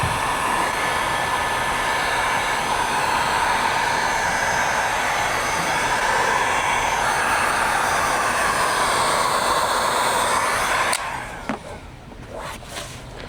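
A heat gun post-heating vinyl wrap on a 96-02 Toyota 4Runner rear door skin gives a steady, loud broadband blowing roar for about eleven seconds, then cuts off and leaves quieter room noise.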